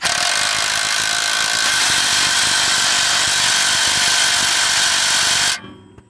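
A Ryobi power tool drives a fastener while a shock extension goes onto a 2002 Ford F350, giving a loud, steady, close whine for about five and a half seconds before it abruptly stops.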